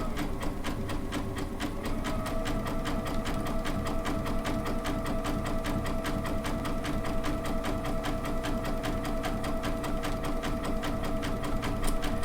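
A Baby Lock sewing machine fitted with a fringe looping foot stitches steadily around an appliqué curve, giving a fast, even mechanical whir and rhythmic needle clatter that runs unbroken and close throughout.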